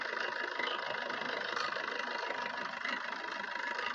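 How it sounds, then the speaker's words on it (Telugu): Diesel engine of a 2017 Maruti Swift VDI idling close by, a steady, even rumble with a fine rapid clatter and no speech over it. "ఇంజన్ చాలా స్మూత్ ఉంది"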